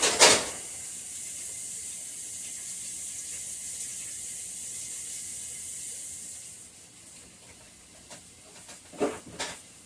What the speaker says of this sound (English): I'm going to rinse my whisk off.